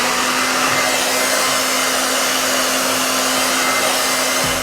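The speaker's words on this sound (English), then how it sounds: "I'm gonna go ahead and use the diffuser on my blow dryer." A blow dryer fitted with a diffuser runs steadily on a curly lace wig, giving a loud, constant whooshing roar with a thin motor whine held throughout, and no talking.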